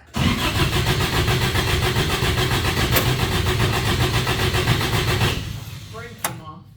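A small engine in a workshop roars continuously and loudly for about five seconds, then dies away and gives one brief sputter near the end, with people talking over it.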